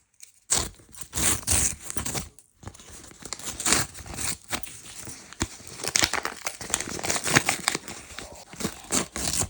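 Close, continuous crinkling and tearing of a paper packet being opened, with rustles and scrapes rising and falling throughout.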